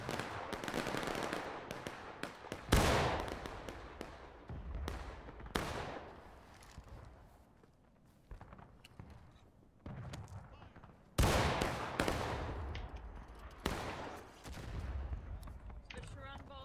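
Musket volleys from a line battle in Invasion Linebattle boom out in several heavy, separated bursts, each a loud crack with a rolling tail, amid scattered distant shots and crackle.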